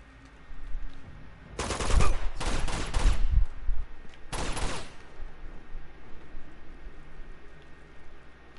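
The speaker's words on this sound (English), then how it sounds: "Who the fuck was shooting?" Bursts of automatic gunfire in the shooter game Uncharted 2: Among Thieves, two close rapid volleys followed by a shorter third burst over a steady ambient bed.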